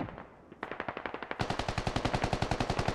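Rapid automatic gunfire in a military video game, one sustained burst followed by a louder, faster stream of closely spaced shots, close and loud with no voices.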